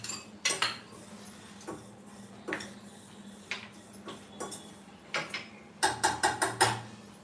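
A spoon clinks and scrapes in a pan of roasted vermicelli, sparse metallic taps that quicken into a rapid burst of clatter near the end, close and fairly quiet.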